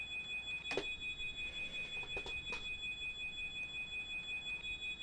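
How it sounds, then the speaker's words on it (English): Steady repeated electronic beeping in a Level-D 767-300 flight simulator cockpit, high thin tones pulsing at an even rhythm, fairly quiet, with a few brief clicks and knocks over it. "I think the weird beeping is like the APU cooling down or something, or the turbines still spinning"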